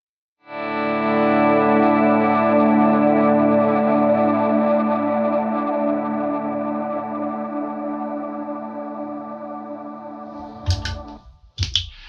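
An effected electric guitar chord sustains through a delay pedal mimicking a Deluxe Memory Man, with a wavering, shimmering echo that slowly fades, then a couple of short clicks sound at the end.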